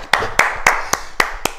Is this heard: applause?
yes